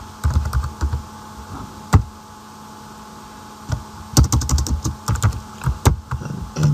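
Someone types code on a computer keyboard in two loud bursts of rapid, close key clicks, split by a short pause, with a single louder thunk between them over a soft mains hum.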